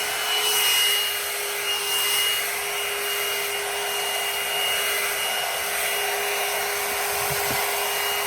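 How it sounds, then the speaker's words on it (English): A Revlon One Step hair dryer styler blows in a steady, close, continuous whir with a constant motor whine over broadband airflow, unbroken for several seconds with no speech. "I'm just going to show you"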